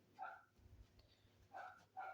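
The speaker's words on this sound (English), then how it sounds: "Oh yeah, you can hear him barking." A dog barks in two short bursts with a pause between, fairly close and clear, with a low rumble in the quiet gap.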